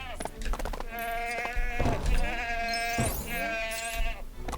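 Cartoonish goat bleats from LEGO The Hobbit, several wavering calls in a row, loud and close, with game sound effects in the mix.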